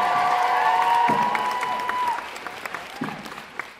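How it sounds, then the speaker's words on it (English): Convention panel audience applauding, a dense burst of clapping from a large crowd that fades and thins over a few seconds, with a sustained tone fading out early and scattered claps continuing at the end. "Round of applause for Steve Norton, please."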